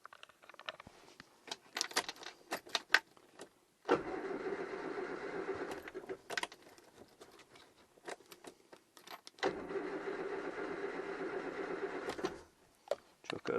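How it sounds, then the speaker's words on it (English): A classic Mini engine cranks slowly on a weak battery in two long, labored bursts of whirring starter turnover, separated by quieter clicks and rattles, fairly faint and close. "It's a slow turnover with the battery."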